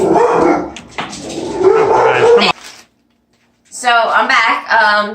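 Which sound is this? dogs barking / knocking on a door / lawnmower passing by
dogs barking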